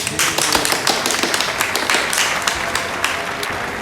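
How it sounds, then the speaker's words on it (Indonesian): Talk show audience clapping for the guests just introduced, a dense, steady patter of many hands that stays fairly even throughout with a few sharper claps standing out. "Berikan tepuk tangan untuk mereka."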